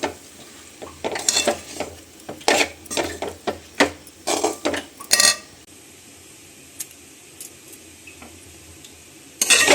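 Spoon scraping and clattering against a pan while Chamakoora potato curry is stirred, with bursts of irregular metallic knocks through the first half, then quieter sizzling with faint occasional clinks.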